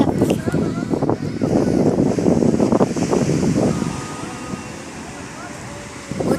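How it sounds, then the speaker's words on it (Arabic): Sea waves washing onto an Alexandria beach at sunset, a steady broadband surf roar with wind noise, loud and close, fading slightly toward the end. "وطبعا اسمها صوت البحر."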